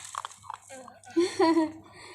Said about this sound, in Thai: ดูเขากินสิคะเสียง เสียงเคี้ยวเขาควับครับควับครับ